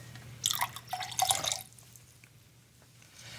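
Strained lemon juice pours for a whiskey sour in a short trickling splash lasting about a second, then fades into quiet room tone.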